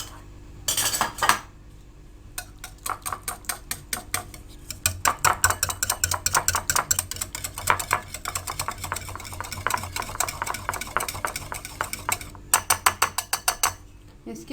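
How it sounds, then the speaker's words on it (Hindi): Curd being whisked for Punjabi dal chana, a spoon or whisk clattering rapidly against a bowl in a steady run of sharp clicks and scrapes, close and fairly loud with brief pauses, no talking. "दही को आप फेंट लें।"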